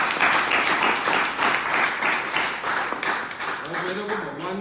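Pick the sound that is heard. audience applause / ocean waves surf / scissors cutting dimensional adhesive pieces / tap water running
audience applause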